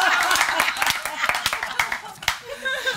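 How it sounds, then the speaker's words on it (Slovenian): An audience claps in scattered bursts of sharp, uneven hand claps, fairly close and loud, thinning out toward the end, with a voice talking and a few chuckles mixed in. "Ne ploskat tem."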